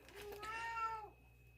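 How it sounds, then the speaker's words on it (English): A single drawn-out meow from a cat indoors near a kitchen, rising and then falling away after about a second, heard clearly over a soft background hum. "she's quite the meower"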